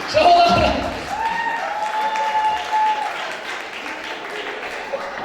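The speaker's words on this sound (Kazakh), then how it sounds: "Шапалақ." Applause from a crowd at a wedding party, a steady wash of clapping running throughout, with a brief voice at the start and faint voices underneath.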